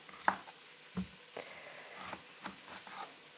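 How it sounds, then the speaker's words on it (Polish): A knife cuts zucchini into cubes on a board, a handful of quiet, separate chops spaced irregularly, heard close and alone. "kroimy cukinię"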